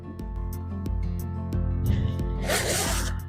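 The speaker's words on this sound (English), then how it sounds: "So let's put the zipper up and see." A hoodie zipper is pulled up during a replacement repair, a close, loud ratcheting zip that speeds up toward the end.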